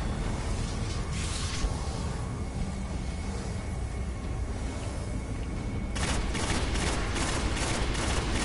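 Rapid bursts of video game gunfire, a dense fusillade of shots in an online match, louder and sharper in the final seconds as a fresh stream of firing starts.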